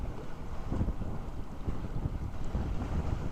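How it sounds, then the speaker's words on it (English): Strong wind buffets the microphone outdoors in record cold, a continuous low rumbling roar with gusty swells and no voices. "The wind is kicking up"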